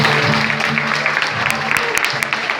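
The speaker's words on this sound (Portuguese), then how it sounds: "Palmas para o meu irmão." Congregation applause at a Catholic Holy Spirit life seminar, a steady wash of clapping throughout with a voice and some music-like tones running underneath.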